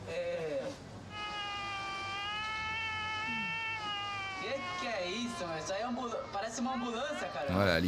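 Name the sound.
voice imitating a racing car engine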